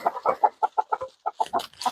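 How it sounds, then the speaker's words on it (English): Chickens cluck rapidly and close while feeding on kitchen scraps, a busy run of short, choppy clucks with a brief pause midway. "chickens get all of our kitchen scraps"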